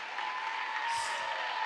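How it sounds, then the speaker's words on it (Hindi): A church congregation in Chhattisgarh claps together in a soft, distant patter, steady and faint, under a thin ringing hum in the hall. "जोर से ताली बजाइए।"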